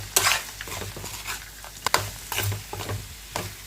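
Mango rice (pulihora) with salt being stirred in a pan: irregular scraping and sticky shuffling strokes, close and moderately loud, with short bursts of rustling between quieter pauses.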